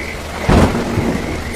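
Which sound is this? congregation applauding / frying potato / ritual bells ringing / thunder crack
thunder crack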